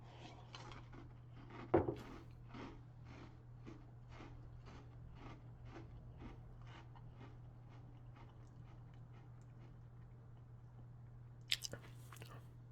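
Someone chews crunchy Oreo O's cereal in milk close to the mic, a steady rhythmic series of soft crunching bites over a low constant hum, with a couple of sharper clicks.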